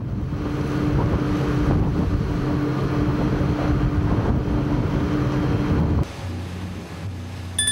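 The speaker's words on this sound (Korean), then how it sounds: "15톤의 작은 중국 배는 덮칠 듯 밀려오는 파도 속에서 앞으로 나가지 못한 채 가까스로 균형만을 유지하고 있다" A small 15-ton Chinese fishing boat battling heavy seas, with a constant loud rush of wind and crashing waves that drops abruptly near the end before surging again.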